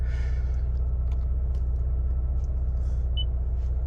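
A Toyota GR Yaris Mark 2 engine idles just after start-up, giving a steady, close, low rumble with an even hum that holds level throughout, with no voices.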